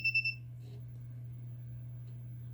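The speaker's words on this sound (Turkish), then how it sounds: "Sıcaklığımız 30 derecenin üzerine çıktığı için ledimiz ve buzzer'ımız uyarı vermeye başladı." An Arduino temperature alarm buzzer gives three quick electronic beeps when an LM35 sensor reads above 30 degrees, then stops, leaving a steady low electrical hum.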